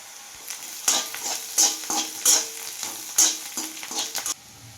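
Onions fry in a pan with a little turmeric for a ridge gourd dish, a close sizzle broken by a regular series of scraping stirs from a spatula, then settling to a quiet hiss.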